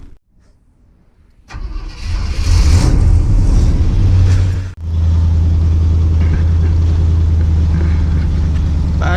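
A project pickup truck's engine cranks and catches, then runs loud and close at a steady idle, dipping once briefly before settling back to an even rumble as it is driven into the shop.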